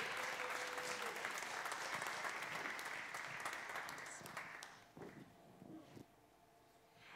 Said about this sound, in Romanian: Aplauze, vă rog, Ion Trandafir, Le Saint!